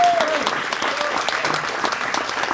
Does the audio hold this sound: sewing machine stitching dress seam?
no